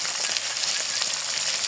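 Chillies and onion frying in hot oil, a loud, dense, continuous sizzle heard up close with no voices over it.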